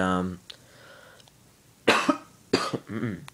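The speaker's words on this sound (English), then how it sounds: "I'm coughing" Two sharp coughs close to the mic, separated by a brief pause, with a bit of talking before and after.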